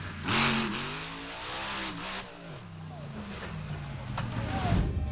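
Kurt Dabney's racing truck revs hard during qualifying at Lima, the engine climbing and dropping through several gear-like sweeps, moderately distant and steady throughout.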